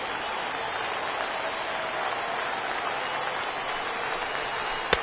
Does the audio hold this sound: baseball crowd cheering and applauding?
yes